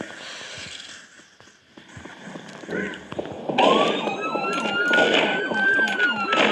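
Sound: police car siren

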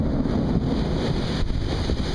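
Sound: strong wind during a storm

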